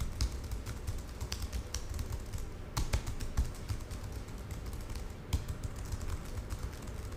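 Office typing on a computer keyboard, a quiet continuous patter of key clicks with a few sharper strokes, close by and with no talking.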